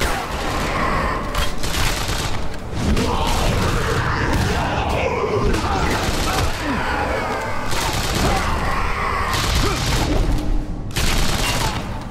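Salt-round gunfire in the video game Hellboy: The Science of Evil, a loud, sustained fusillade of rapid shots and booms over continuous combat noise.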